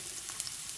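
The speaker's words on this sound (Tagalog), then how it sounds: "Na mainit na yung kawali, ilagay ko po itong garlic." Garlic dropped into hot oil in a heated frying pan sizzles with a steady, close hiss and faint crackles, with no voices.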